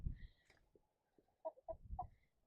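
Several short, throaty hen clucks in quick bursts, close by on a farm, with soft scratching and rustling between calls.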